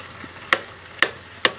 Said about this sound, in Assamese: ধনিয়া দি এতিয়া লৰাই দিওঁ